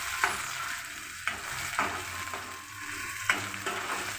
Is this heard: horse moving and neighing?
no